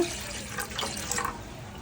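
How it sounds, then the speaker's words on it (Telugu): Water is poured into a cooking pot set on a lit stove, a faint, brief splashing trickle that rises and fades over a couple of seconds. "గిన్నె పెట్టుకుని అందులో కొంచెం వాటర్ వేసుకోవాలండి"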